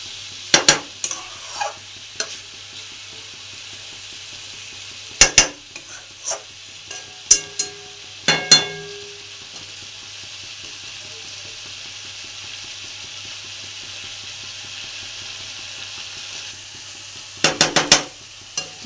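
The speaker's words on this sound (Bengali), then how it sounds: "এঁচড়গুলো দিয়ে আবার একসঙ্গে নাড়াটা করে, একটু মশলাটা ভাজা ভাজা হয়ে যায়" Jackfruit and spices fry in a pan for a chicken dish, a faint steady sizzle broken by irregular bursts of spatula clatter and scraping against the metal, with quiet stretches between stirs.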